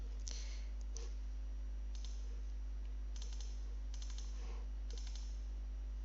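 A computer mouse double-clicks in workflow software, making several faint, sparse pairs of clicks over a steady low electrical hum.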